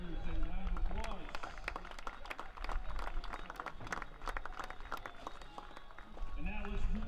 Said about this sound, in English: These future Raiders a round of applause.